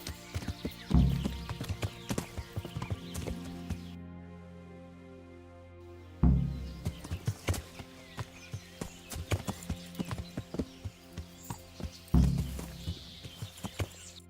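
A horse's hooves plod in an even clip-clop gait on a path in the medieval game Kingdom Come: Deliverance, with heavier thuds recurring every few seconds and a brief lull midway.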